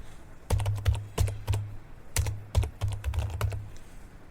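Rapid keystrokes on an HP laptop keyboard, irregular clusters of crisp clicks in quick bursts, close and fairly loud over a low steady hum, with no voices.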